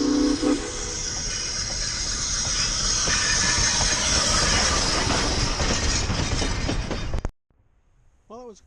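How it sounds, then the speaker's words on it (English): A freight train with a helper locomotive rumbles and hisses loudly close by for several seconds, then cuts off to near quiet. "This is the helper train, the second engine that pulls the big train north."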